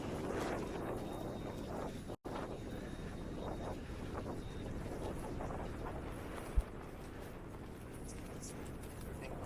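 Steady, loud wind buffets the microphone during a downtown Toronto whiteout snowstorm, a broad continuous roar that swells into a gust, with a brief dropout partway through and no voices.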